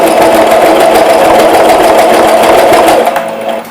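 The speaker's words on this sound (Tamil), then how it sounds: "ஸோ இப்போ வந்து நான் ஸ்டிச் ஸ்டார்ட் பண்றேன்." A Singer sewing machine stitches a button in a fast, loud, even run of mechanical clatter that slows and tapers off in the final half second.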